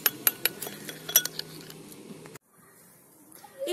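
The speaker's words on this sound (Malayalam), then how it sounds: "ഇനി ഇത് നന്നായിട്ട് മിക്സ് ചെയ്ത് എടുത്തു കഴിഞ്ഞാൽ നമ്മുടെ പാക്ക് തയ്യാറായിട്ടുണ്ട്." Spoon scraping and clinking against a bowl while a turmeric and lemon juice face pack is stirred, with a run of quick close taps before the sound drops to near quiet.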